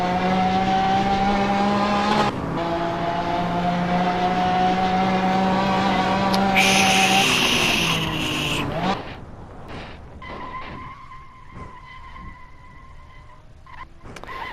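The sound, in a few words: off-roading Lamborghini driving in Hot Wheels video game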